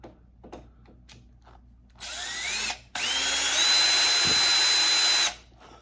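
A power drill drives screws into a 3D-printed PETG rear hinge mount for a TRX4 RC truck, with a short whirring burst followed by a longer, steady, close run whose pitch climbs, then stops.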